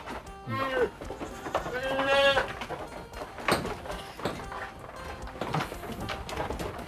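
Goats on a farm bleat several times, close and loud, with drawn-out wavering calls near the start and fainter bleats later, while someone talks over them.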